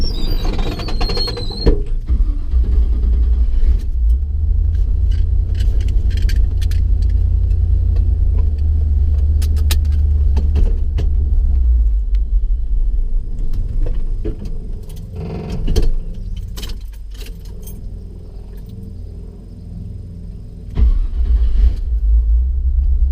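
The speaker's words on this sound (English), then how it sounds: "Taking the truck for a cruise." A pickup truck with a small-block Chevy engine and an LS-style 4L60E transmission cruises along the road. The engine gives a steady, heavy low rumble that stays close and continuous, with occasional rattles and no talking.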